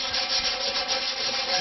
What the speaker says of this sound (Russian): Далее берем наждачку. Вот у меня такая нулевочка. Значит, P240.